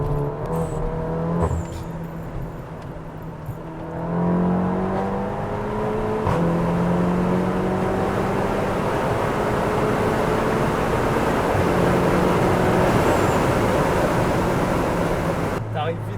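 A 420 hp Cupra Leon accelerates hard from inside the car, the engine note climbing through several gears in rising sweeps with brief shift breaks, and people talk over it.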